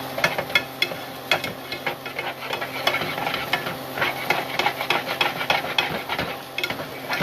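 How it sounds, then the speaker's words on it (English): A pan of ramen with a beaten egg and spice seasoning is stirred over the heat, giving quick repeated scraping and tapping strokes over a soft, steady sizzle, close by, with no talking. "And we'll give it a good stir."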